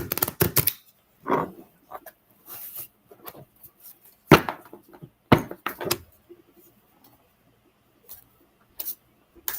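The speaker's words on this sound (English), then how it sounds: "We shall shuffle the cards and see what they have to say." Tarot cards shuffled by hand at a reading, giving a series of brisk papery riffles and soft taps in irregular bursts, some louder snaps among quieter rustles, with no talking.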